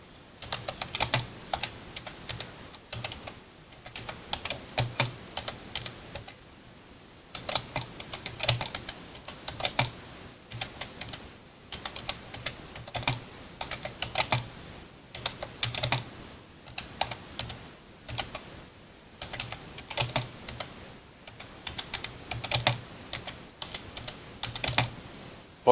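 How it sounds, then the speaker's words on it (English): Heavy, forceful typing on a computer keyboard, with rapid bursts of clacking keystrokes broken by short pauses, fairly faint and steady throughout with no talking. "Bonsai's beating up his keyboard."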